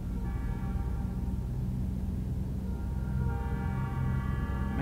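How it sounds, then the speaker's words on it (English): A train rumbling past a level crossing in a trucking video game, a steady low rolling roar with faint horn-like tonal layers, moderately distant and continuous. "Train's coming."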